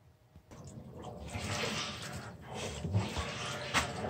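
A newly installed electric water heater fills with water, giving a churning, rushing flow with surging swells and gurgles, quiet at first then steady and moderately loud.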